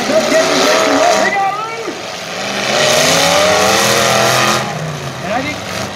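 A demolition derby car revs its engine hard with wheels spinning, the rising and falling engine whine loud and close, while an announcer talks over it throughout.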